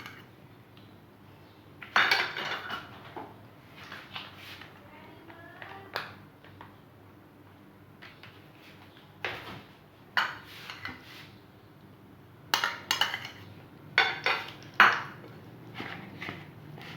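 A spoon clinks against a dish while mayonnaise is mixed into a chilled chicken and cheese filling for bread rolls, giving scattered metallic taps and scrapes of varying loudness with quiet gaps between.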